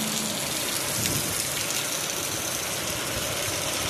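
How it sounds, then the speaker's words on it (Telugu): Heavy rain pours down in a dense, constant hiss of drops striking surfaces, steady and loud throughout with a faint low engine hum beneath and no voices. "ధారలు పడుతున్నాయండి వర్షం చాలా."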